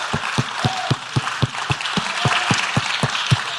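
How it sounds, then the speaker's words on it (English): Church congregation clapping in praise: a crowd's rhythmic hand claps land in an even, steady beat, roughly three per second, over a wash of cheering and scattered applause, close and loud. "Would you give him another hand clap of praise?"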